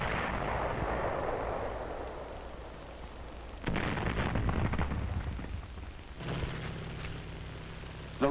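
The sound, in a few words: artillery fire from emplaced Japanese weapons, WWII Guam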